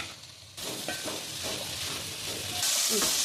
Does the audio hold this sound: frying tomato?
yes